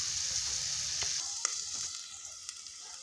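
Green chillies cook in a covered pan for a curd chilli side dish, a steady hissing sizzle that gradually quietens, punctuated by a few sharp clicks and pops, close by with no voices.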